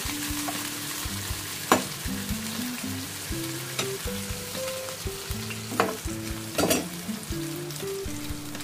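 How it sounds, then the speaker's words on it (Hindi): Onions and cumin frying lightly in a pan for bhindi masala, a steady soft sizzle with scattered stirring clicks and scrapes, quiet and close with no talking. "लाइट फ्राई कर लेंगे प्याज को"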